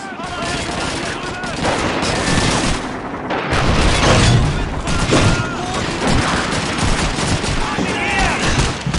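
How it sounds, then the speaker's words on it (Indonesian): Loud, dense World War II rifle and machine-gun fire from Call of Duty 2 rattles almost without pause, with a brief gap midway, close and heavy, as a voice talks over it. "Ada yang nembak kita."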